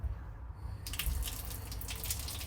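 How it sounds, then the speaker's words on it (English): A bathroom tap is turned on and water runs steadily into the sink, a close, continuous hiss and splash that starts suddenly after a moment of quiet. "there's going to be a little bit of noise while I just run the water."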